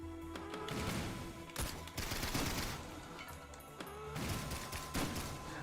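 Fireworks item exploding in the video game Risk of Rain, a rapid run of sharp crackling bursts and pops in several clusters, loud and busy over a low steady game backdrop.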